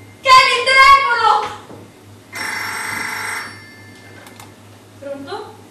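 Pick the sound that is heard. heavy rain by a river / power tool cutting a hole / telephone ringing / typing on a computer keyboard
telephone ringing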